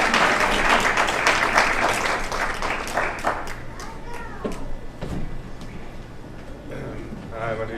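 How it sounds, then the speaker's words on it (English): Audience applause at a Fighting 4 Recovery event for the Never Too Late Foundation, steady dense clapping from a crowd that thins and fades over several seconds, with a few voices and cheers mixed in. "Give him a round of applause."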